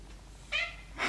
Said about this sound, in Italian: Gatto Denver sempre pronto